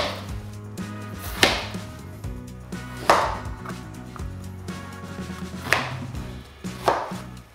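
A knife chops a red onion into big chunks on a cutting board, with four sharp, well-spaced thwacks standing out above a steady low background hum.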